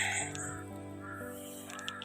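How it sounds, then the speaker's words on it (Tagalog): A crow circling overhead gives a couple of harsh caws, close and clear over a steady low background hum, with no voices heard. "Yung uwak nag-aligid-aligid sa akin pero huwag kayong mag-alala"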